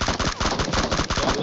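Rapid automatic gunfire in the BGMI mobile battle royale game, a loud, close, continuous burst of evenly spaced shots lasting about a second and a half.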